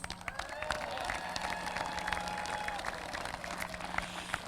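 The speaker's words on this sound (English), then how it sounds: "Let's all give some of my very favorite moms a round of applause." Crowd at a high school football state championship celebration applauds steadily for the team moms, dense continuous clapping with scattered cheers filling the room for several seconds.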